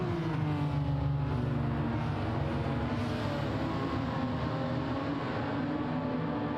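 A pack of thirty Group 2 race cars heading off at Spa in a 24 Hours of Spa Legends racing game event, merging into a dense, continuous engine roar with layered humming tones and no talking.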